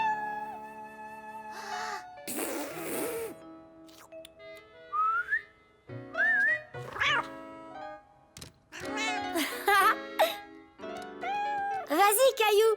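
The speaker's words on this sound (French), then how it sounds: "Pourrais-tu m'apprendre à siffler?" A person whistles in a French-language children's cartoon: short rising and falling whistled notes, some wavering, come in bursts between spoken lines and background music.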